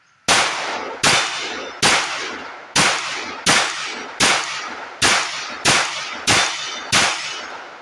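A Glock 30 Gen 5 .45 ACP pistol fires ten loud, sharp shots at an outdoor range, spaced almost evenly less than a second apart, each with a brief ringing decay and no talk.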